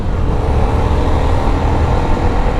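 Hero Super Splendor 125cc BS6 motorcycle riding in gear, a steady loud engine drone with road and wind rumble throughout, no voices.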